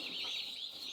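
Meat bird chicks on a farm give a continuous stream of high, wavering peeps, close and steady throughout.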